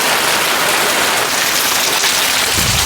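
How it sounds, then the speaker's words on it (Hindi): Heavy rain pours steadily in a hillside village, a dense, continuous broadband hiss of rain on surfaces that stays loud and unbroken throughout, with no voices. "भयंकर वाली बारिश हो रही है भाई"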